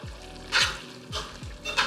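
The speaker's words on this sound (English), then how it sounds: "Gonna stir all of this up" Collard greens with meat, seasonings and brown sugar being stirred in a pot, with a few short scraping swishes over a low simmering sizzle.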